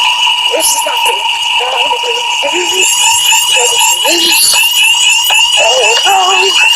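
A loud school fire alarm rings nonstop while voices speak over it, the piercing electronic tone staying constant throughout.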